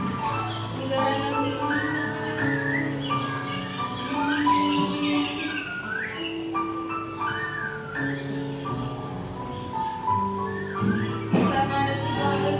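Birds chirp and sing in a repeating, melodic pattern over a steady bed of soft music, moderately loud and continuous, with insect-like trills mixed in.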